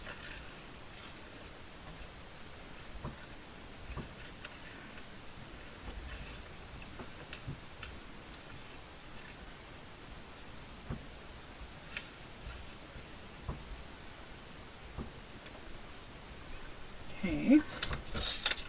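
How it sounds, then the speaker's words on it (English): Scissors fussy cutting around paper ephemera, small quick snips ticking steadily at close range, faint and continuous with a few louder clips near the end. "Now I'm going to fussy cut around here"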